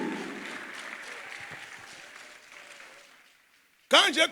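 A church congregation claps and cheers at an evangelism sermon, a broad crowd applause that fades away over a few seconds, followed by a loud voice breaking in at the end.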